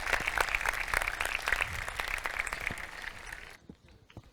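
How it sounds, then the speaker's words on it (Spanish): An audience at a climate crisis debate event claps, a moderately faint, dense patter of hands that gradually thins before stopping abruptly near the end. "Por favor, otro gran aplauso ahora sí para todas las asociaciones y para los especialistas que están aquí en el día de hoy."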